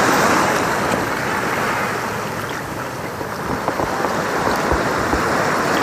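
Ocean surf washing onto the beach at Lobo, Batangas, a broad continuous roar of breaking waves, fairly loud and steady with slight swells, no voices.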